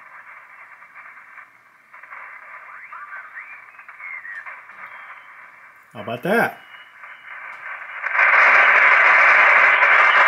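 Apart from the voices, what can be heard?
Drake TR-3 radio receiver tuning a station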